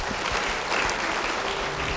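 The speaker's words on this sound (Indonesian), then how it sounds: "Beri tepuk tangan bagi dia." An audience claps in sustained, dense applause, loud and close throughout the short burst, with no talk over it.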